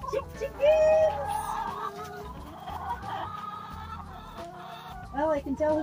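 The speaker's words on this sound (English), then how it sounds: "Chickens!" Bresse chickens clucking and calling close by, loud bursts of clucks and squawks in quick irregular runs, a rooster-like call rising briefly among them.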